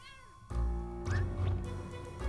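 Cat in the video game Impostor Factory meows clearly against an ongoing game music bed, a couple of close, distinct cries.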